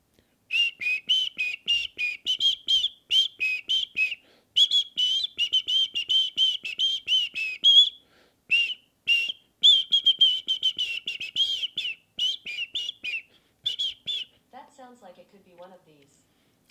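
A person whistles the melody of a song, a long run of bright, quick, clear notes in rhythmic phrases with short pauses, close and fairly loud, ending in a few softer, lower sounds.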